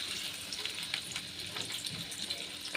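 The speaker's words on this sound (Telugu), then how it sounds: "ముందు ప్యాన్ పెట్టుకుని అందులో ఆయిల్ వేసుకొని ముందుగా కట్ చేసుకున్న అల్లం ముక్కలు వేసుకోవాలి" Cut ginger pieces fry in hot oil in a pan for a tomato curry, a steady close crackling sizzle with small bursts and stirring scrapes, no talking.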